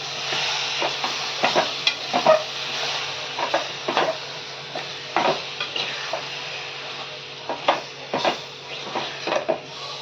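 Shark fish pieces are stirred in a kadhai for a Malvani dry recipe, with repeated scraping and clattering spatula strokes over a continuous soft sizzle, close and steady.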